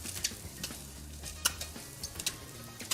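Spam frying in a pan is stirred with a utensil, sharp clinks and scrapes at irregular intervals over a steady background sizzle, close up with no talking.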